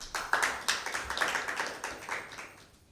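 A small audience at a school Bible quiz gives a round of hand clapping for one team, a quick burst of claps that stays lively before thinning out and fading within a few seconds.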